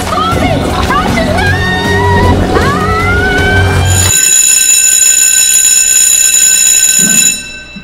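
A school bell rings in a video game. It is a loud, steady electric ring with a bright metallic tone that starts after a stretch of talking, holds for about three seconds and then stops abruptly.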